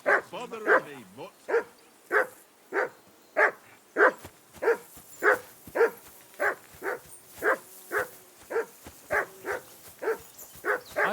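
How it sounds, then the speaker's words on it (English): A dog in the medieval video game Kingdom Come: Deliverance 2 barks repeatedly, about eighteen evenly spaced, fairly loud barks in a steady rhythm with a few whimpering yips at the start. "I assume you can hear that damn dog of yours barking."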